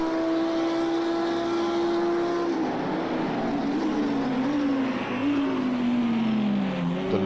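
GT3 race car in a sim racing game, its engine holding a steady loud tone, then dropping in pitch as it shifts up into fifth gear and pulling on with a wavering drone.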